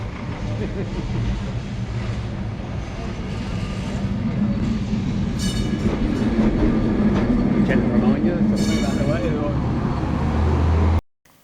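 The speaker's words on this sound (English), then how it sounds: "Tram 28 is a highlight of Lisbon." Lisbon's Tram 28 rumbles and rattles along rails, the low hum building steadily with some clacking and squeals, people talking faintly underneath, before it cuts off abruptly.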